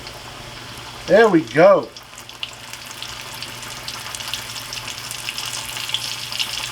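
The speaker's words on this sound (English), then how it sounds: "let's go ahead and begin putting this into the oil slowly" Whole catfish lowered slowly into hot oil, a bubbling sizzle that builds and crackles steadily after a brief spoken remark, up close in an outdoor cooking shack.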